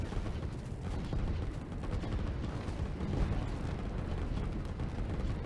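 Battle noise rumbles continuously in the Line War strategy game as three tanks push toward a town and its port, with dense overlapping gunfire and explosive booms forming a steady roar with no speech.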